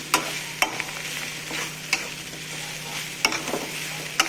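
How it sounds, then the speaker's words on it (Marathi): Cluster beans are stirred into masala in a pan, a spoon scraping and clacking against the metal in irregular sharp strokes over a soft, constant sizzle, close up and with no talk. "2 मिनिटं असं हलवून घेऊया आपण।"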